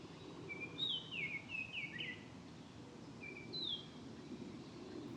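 Two orioles trade similar whistled song phrases, one burst of several notes followed a moment later by a shorter answering phrase, faint over a low rustling background.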